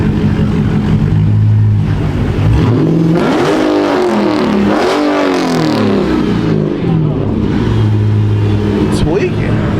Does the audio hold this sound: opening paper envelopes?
no